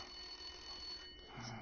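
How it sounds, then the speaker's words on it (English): A telephone rings in the Blacksad video game, a thin, steady tonal ring with a faint electronic buzz, fairly quiet and heard alone without speech. "The phone is ringing."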